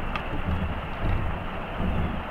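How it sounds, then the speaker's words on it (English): A steady rumbling wash of storm noise, low and broadband, like distant thunder and rain, with no talking. "Ooh, can you hear the storm?"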